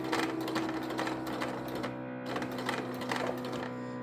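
A sewing machine stitching straight across tote bag fabric from one corner to the opposite one, a fast, even mechanical chatter with a steady motor hum, close and continuous, slowing briefly midway.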